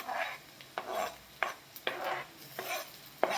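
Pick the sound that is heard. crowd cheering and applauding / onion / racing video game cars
onion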